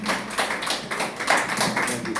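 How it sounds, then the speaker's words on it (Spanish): A church congregation claps in praise to the Lord, a dense, steady wash of many hands at close range with no distinct individual beats. "Vamos a aplaudir al Señor"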